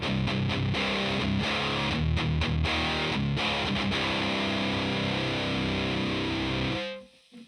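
Heavy, distorted electric guitar played through a Fender Hot Rod amp and an overdrive pedal, loud and dense with chugging, choppy stops in the first few seconds, then ringing sustained chords that cut off near the end.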